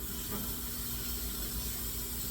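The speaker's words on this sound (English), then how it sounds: "Gonna rinse off our spatula." A barbecue spatula being rinsed under a running tap, with a steady, even rush of water that holds at one level throughout and carries no voices.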